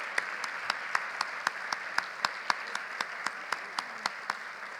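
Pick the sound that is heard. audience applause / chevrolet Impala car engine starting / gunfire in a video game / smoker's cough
audience applause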